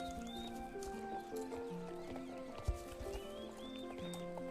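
Horse hooves clip-clop steadily in the Star Stable video game, a soft even rhythm under layered game music with occasional whinny-like tones and one sharp knock midway.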